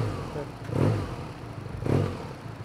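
A BMW R NineT Urban GS boxer motorcycle engine revved twice in short swells, a deep throaty rumble rising and falling, with some background clatter.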